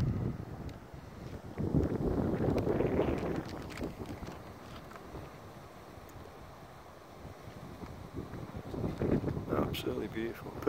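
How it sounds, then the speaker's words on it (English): Wind gusting across a valley edge on a clear day, a broad rumbling buffet that swells strongly early on, eases in the middle and builds again toward the end. "it's just a shame about the wind really"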